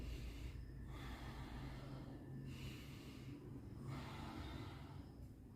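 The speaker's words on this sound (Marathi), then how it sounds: "एक दीर्घ एक दोन श्वास घ्यायचे आणि सोडायचे" Slow, deep breathing during a yoga exercise for senior citizens, three or four long, soft inhales and exhales, faint and close, with no talk.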